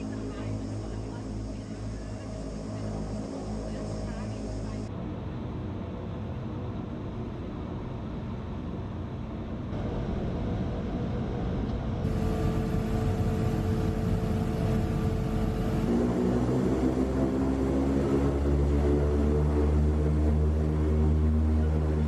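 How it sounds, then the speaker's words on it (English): A Twin Otter's Pratt & Whitney turboprop engines run while taxiing at Glasgow Airport, a sustained propeller drone with tonal bands that grows louder and rises in pitch toward the end. "That's all done under our own power with these beautiful sounding Pratt & Whitney engines."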